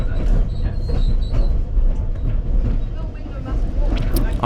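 A Ffestiniog Railway train runs from Blaenau Ffestiniog toward Porthmadog Harbour, its loud, steady rumble and clatter heard from on board, with a voice talking over it.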